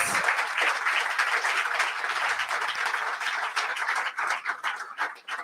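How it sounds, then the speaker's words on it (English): Applause for the students at a national youth pitch competition, sustained clapping from a large audience that gradually thins into separate claps toward the end. "So please give them a huge round of applause."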